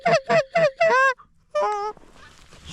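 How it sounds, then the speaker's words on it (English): Geese honk loudly and close by in a goose hunt over decoys, a run of four rhythmic honks followed by a longer call, then a fainter wash of background noise. "Hopefully have some geese starting to work here pretty soon."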